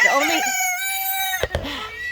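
Chickens kept in an enclosure call out nearby, with a rooster's drawn-out crow rising and holding before a few short clucks and squawks follow.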